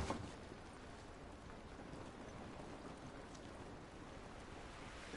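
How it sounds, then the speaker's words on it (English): Steady rain in the video game The Last of Us Part 1 hisses and patters continuously at a low, even level, with no voices, a soft wash of falling water throughout. "This rain ain't gonna do us any good."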